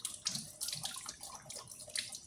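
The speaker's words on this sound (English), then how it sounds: "Okay, so we're back at the sink. Now we'll just like low pressure on the water." A kitchen sink tap runs water at low pressure, giving a soft, steady trickle and splash that sounds faint and close, with no talking.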